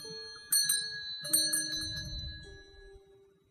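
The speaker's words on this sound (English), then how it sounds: "Ring the doorbell." A video game doorbell chimes twice, two clear bell tones struck in quick succession. The second tone rings on and slowly fades, with soft background tones underneath.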